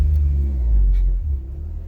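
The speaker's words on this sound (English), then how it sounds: "And watch me stall the car out." A turbocharged ninth-generation Honda Civic with a manual gearbox stalls, its engine rumbling low and steady up close before the note sags and dies away.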